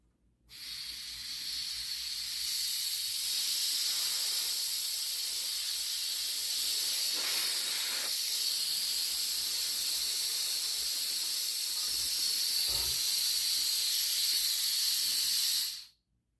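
C25 shielding gas, a 75% argon mix, hisses steadily through a regulator for a Lincoln WeldPak welder, a constant loud rush lasting about fifteen seconds before cutting off.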